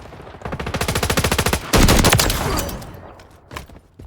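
Rapid automatic fire from a tactical rifle in the shooter game MW3, a loud close burst of evenly spaced shots, then a heavier blast that rings out and fades with a late single shot.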